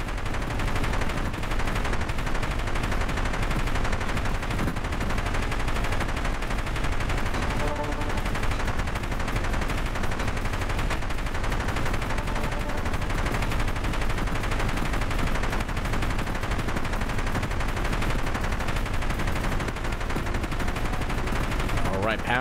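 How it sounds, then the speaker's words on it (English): A helicopter video game's missile barrage launches at enemies, a dense continuous roar of rapid firing and blasts layered with rotor and engine drone, loud and unbroken throughout, with someone talking over it. "Let's do missile barrage, which will automatically fire at the enemies within range if there's enough of them."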